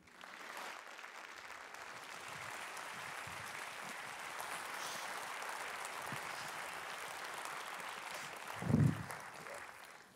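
A Liberal Democrat conference audience in Glasgow claps continuously for the party president, a sustained, fairly distant wash of applause with a brief thump near the end.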